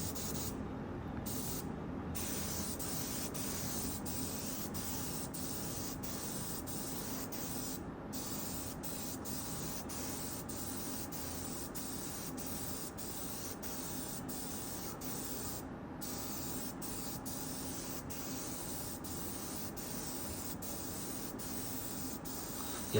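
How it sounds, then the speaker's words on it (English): A spray gun fires short test bursts of gold pigment paint (Alumaluster) in a workshop, giving a steady close hiss broken by several brief pauses between squirts. "A few test squirts"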